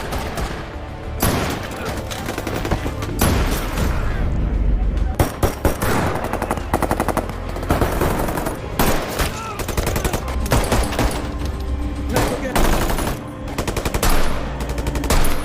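Heavy film gunfire in a bank robbery scene as robbers with heavy weapons and sniper rifles shoot at police, dense machine-gun bursts and rapid shots continuing loudly throughout with little pause.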